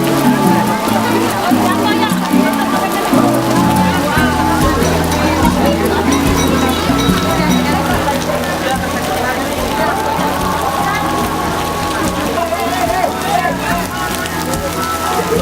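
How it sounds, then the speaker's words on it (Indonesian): Rain pours in Kota Tua, Jakarta, a loud, steady hiss of drops hitting the ground in an open outdoor space, with a low hum and murmur of voices underneath. "Oh tidak, hujan."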